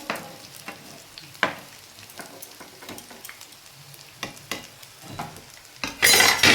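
Coriander leaf and cauliflower pakoras frying in oil, a soft background sizzle broken by sharp clinks and scrapes of a utensil, ending in a louder burst of crackling oil.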